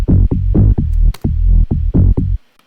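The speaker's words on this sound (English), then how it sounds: "I actually made this bass line in Ableton's operator, and it's just a sine wave layered with another sine wave" A house track bass line built in Ableton Operator from two layered sine waves, pulsing loud and deep in a steady run of about eight rhythmic throbbing notes before stopping, with no voices.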